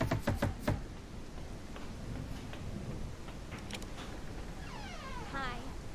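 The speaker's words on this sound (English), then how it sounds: "Knock on the door." Knocking on a door in the short horror game The Crimping: a quick run of sharp close knocks at the start, followed by quiet rain-like ambience and faint clicks.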